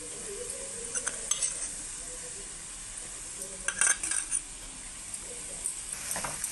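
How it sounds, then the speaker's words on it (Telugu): Mango pieces and onion frying in a pan for a fish curry, stirred with a metal spoon: a soft continuous sizzle under clinking scrapes against the pan that come in brief clusters. "ఈ మామిడికాయ ఉల్లిపాయ మగ్గేదాకా తిప్పాలి"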